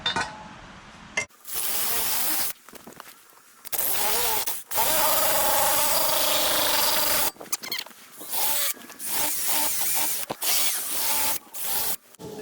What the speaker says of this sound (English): The drill right here.